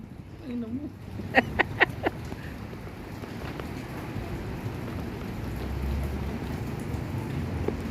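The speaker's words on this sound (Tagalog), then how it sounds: "si Lester, inaabot na ng ulan" Steady rain falls outdoors during a tilapia pond harvest, a broad continuous hiss running through the whole stretch, with a few sharp knocks and splashes early on and people speaking faintly in the background.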